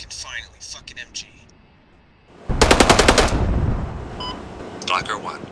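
Close, loud burst of machine gun fire, a rapid rattle of about a dozen rounds lasting roughly a second, followed by a lingering roar, with radio-style voices talking before and after.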